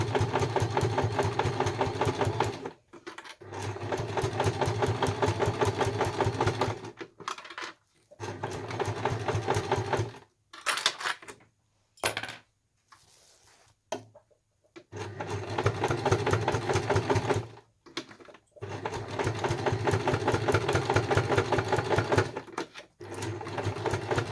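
A sewing machine stitches an oven mitt in long steady runs of rapid mechanical whirring, broken by several short pauses and a brief stop-start stretch in the middle, loud and close with no talking.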